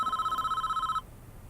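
A telephone rings inside the prison-management video game Prison Architect: one bright, warbling electronic ring lasting about a second, then it stops abruptly, leaving faint room noise.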